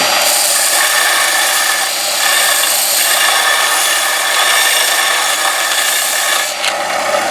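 A belt sander grinds steadily against a wooden guitar effect pedal bottom, giving a loud, continuous abrasive whir that holds without pause throughout.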